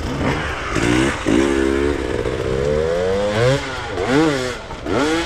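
A motorcycle engine revs up and down repeatedly, loud and close, its pitch rising and falling in waves with no voices.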